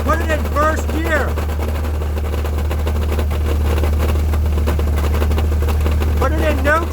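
Chevy S10 with a 2.2-litre four-cylinder engine running with a knock, a steady close idle drone with faint rhythmic tapping throughout, while a voice speaks over it at the start and again near the end.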